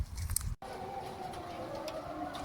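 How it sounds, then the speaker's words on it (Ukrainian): After a brief burst of nearby noise and a cut, a steady droning air raid siren holds in the background at night in Ukraine, distant and even, under faint ambient hiss and light rain. "під звуки повітряної тривоги."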